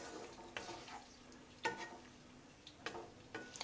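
Cauliflower korma being stirred in a pan with a little water and garam masala, a faint sizzle under a few soft spoon scrapes and clinks against the metal at irregular intervals.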